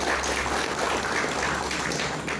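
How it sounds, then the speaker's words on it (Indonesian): Audience at an agricultural extension gathering in Blora, Central Java, breaks into steady, dense applause, many hands clapping continuously and fairly loud throughout. "Kalau begitu tepuk tangan untuk kita semua."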